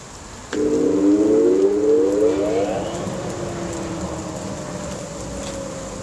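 A torpedo waste-oil burner runs with its blower inlet partly blocked by a rag, giving a sudden, loud whining tone that rises in pitch and then settles into a steady drone over a constant rushing roar.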